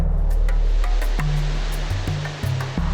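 Victoria Falls thundering, a steady roar of broad rushing water that is loud and continuous, with a few faint knocks and low hum mixed in and no voices.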